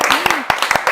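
Brief audience applause at a golf apparel brand interview show: a short burst of sharp, close hand claps with a voice briefly overlapping.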